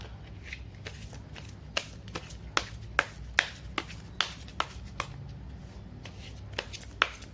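Tarot cards being shuffled at close range, with a steady series of crisp riffling snaps and taps over several seconds, getting slightly louder toward the end, with no talk.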